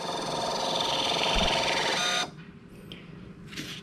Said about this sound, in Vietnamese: in tờ nữa cho các bạn xem ha